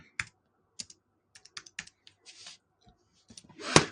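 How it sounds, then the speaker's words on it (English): Sparse typing on a computer keyboard, with short bursts of close, crisp key clicks separated by pauses, ending in a louder clack, with no talk. "Hold on, I'm typing something real."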